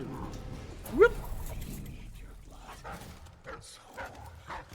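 A dog in the video game Dishonored 2 gives a single brief, sharp yelp, with a shout from the player and faint game ambience around it.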